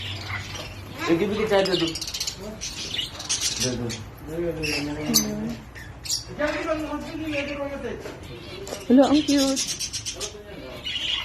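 Parrots and lovebirds squawk and chirp in repeated bursts close by, interleaved with a person talking over them.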